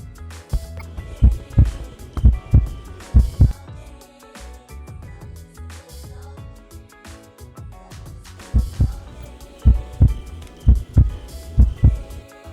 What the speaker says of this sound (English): add a heartbeat sound effect onto the footage.